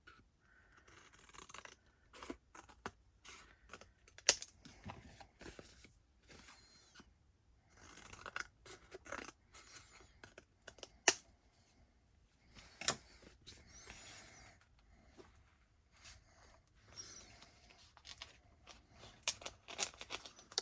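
Paper being trimmed for a junk journal cover, with soft, irregular snips and scraping rustles spread across a quiet room, faint and intermittent, no talking.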